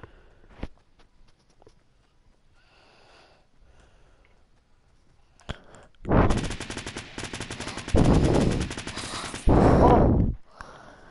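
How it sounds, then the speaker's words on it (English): Loud bursts of rapid gunfire in a video game, starting abruptly and coming in several dense, sustained volleys separated by brief pauses, with no talk over them. "Oh, I'm being shot at."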